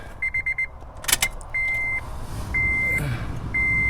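A Honda Element has its ignition key turned on and the engine running: keys jangle, a chime beeps repeatedly in short bursts, and then a steady engine hum sets in beneath.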